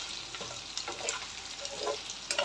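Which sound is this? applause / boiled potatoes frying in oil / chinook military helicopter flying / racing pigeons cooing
boiled potatoes frying in oil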